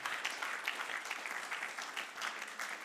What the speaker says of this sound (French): Acclame bien.